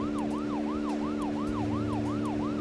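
A police car siren in a video game wails in steady repeating up-and-down sweeps, loud and continuous, with a low engine hum underneath and no talk.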